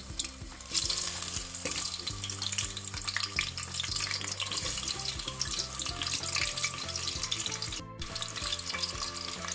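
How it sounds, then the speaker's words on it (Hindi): Potatoes fry in hot oil, giving a dense, continuous sizzle that stays close and loud, with stirring scrapes and crackles mixed in and no voices. "अभी इसके अंदर हम डालेंगे आलू। आलू को फ्राई करेंगे।"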